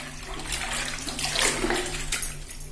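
Mint leaves are squeezed and kneaded by hand in half a bucket of water, giving a steady splashing and sloshing that stays moderately loud throughout without any talk.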